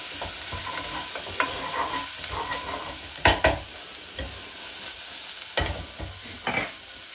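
Shiitake mushrooms stirred in a hot frying pan: a steady sizzle runs throughout while a utensil scrapes and knocks against the pan several times, with a couple of sharper clatters midway, close and fairly loud.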